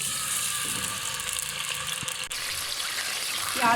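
Onions fry in oil in a pot with a steady close sizzling hiss that stays fairly even throughout, with a brief scrape of a utensil near the end.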